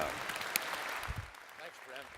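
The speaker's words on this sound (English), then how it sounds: "Let's give him a nice round of applause on my left here." Applause rises from a university convocation audience for the provost, a fairly faint, steady patter of many hands heard from a distance while a voice speaks.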